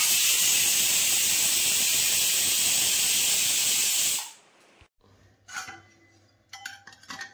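A pressure cooker full of mutton paya hisses steam loudly and steadily for about four seconds, then cuts off abruptly, followed by quiet kitchen clinks and light handling noises.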